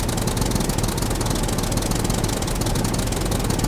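A tractor engine idles and runs steadily in the survival game SCUM, a continuous low mechanical rumble with a knocking pulse that stays loud and even throughout, with no one speaking.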